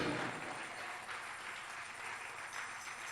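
A church congregation claps together during a Sunday morning service, a steady, dense wash of applause that holds at an even level for several seconds with no voices over it.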